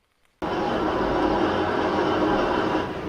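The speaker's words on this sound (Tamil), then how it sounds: "Train is coming." A train in Grand Theft Auto V rushes past after a brief quiet start, a loud, steady broadband roar and rumble that holds for the rest of the moment with no talk over it.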